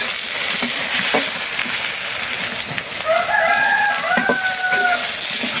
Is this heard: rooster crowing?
yes